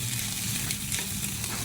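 Food sears on a Blackstone griddle with a continuous, moderately quiet sizzle and soft spattering that stays even from start to end, with no voices.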